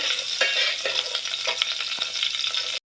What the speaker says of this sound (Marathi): कढीपत्ता चार पाच पाकळी टाकायचे आपल्याला व्यवस्थित मिक्स करून घ्यायचं